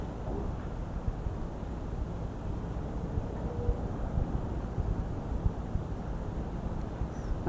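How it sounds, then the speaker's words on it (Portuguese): Wind blows outdoors during a sound performance event, a constant low rumble of buffeting gusts pressing on the microphone that lasts the whole stretch, with no speech. "Mas está um vento, né?"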